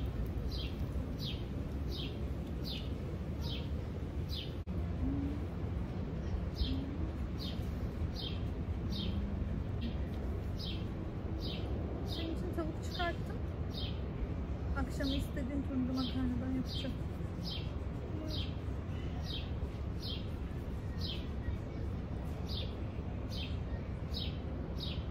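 Small birds around a home flower box give a regular series of sharp, high chirps, repeating at a quick, even pace, with faint voices now and then underneath.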